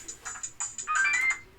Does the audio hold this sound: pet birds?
no